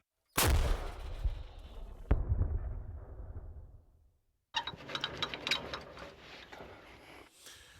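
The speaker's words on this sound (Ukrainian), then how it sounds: "американської польової гаубиці М101 А1 калібром 105 мм" An American M101A1 105 mm field howitzer fires, a heavy blast that booms and rolls away, then a second sharp report follows; after a pause, crackling outdoor noise and clatter continue.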